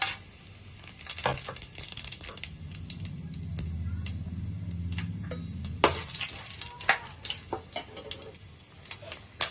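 Whole biryani spices frying in hot oil in a pan for an egg biryani, a steady close sizzle with scraping stir strokes and sharp crackles throughout, no voices.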